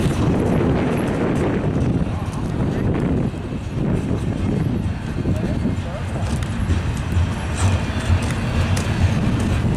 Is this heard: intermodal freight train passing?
yes